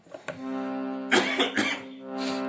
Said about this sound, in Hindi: मैं गाऊंगा तो मुझे खांसी आएगी दोस्तों